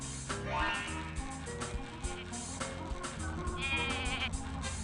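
Sheep bleat in the video game Rocket: Robot on Wheels, a wavering repeated bleat sounding over busy game music and effects, clear and close.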